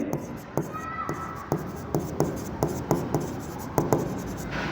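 Chalk or marker writing on a classroom board during an accounting lesson, a run of regular sharp taps and scratchy strokes about every half second, close and distinct, with faint background voice.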